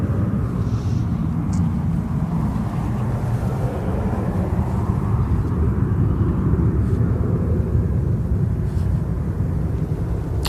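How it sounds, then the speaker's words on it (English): An Airbus A321 airliner on the active runway at Manchester Airport, a steady low jet rumble heard from a distance that holds at a constant level throughout. "the A321 has entered the active runway now"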